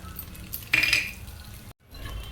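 Fried pasta is tossed and mixed in a pan, with a short burst of metallic clinking and scraping from a utensil against the pan, then a brief drop to silence.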